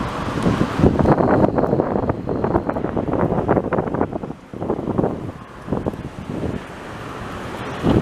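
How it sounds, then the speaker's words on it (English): Strong gusts of wind buffet and roar across the microphone in uneven bursts, with a deep rumble underneath and no talking, beside a rail yard in Montreal. "it's windy today"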